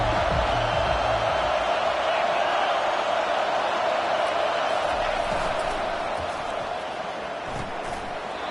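Football stadium crowd at a Texas A&M college game, a loud continuous roar of many voices filling the background under a commentator's talk.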